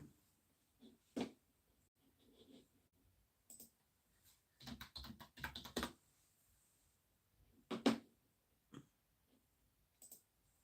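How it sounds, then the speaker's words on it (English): Sporadic bursts of keyboard typing, quick clusters of key clicks separated by quiet pauses, close and fairly soft. "My keyboard's gonna get funny now."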